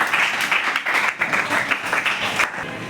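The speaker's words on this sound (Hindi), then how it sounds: "जोरदार तालियां" Classroom applause for a student during a quiz competition: a roomful of children clapping in a brisk, uneven rhythm, close and lively, tapering slightly at the end.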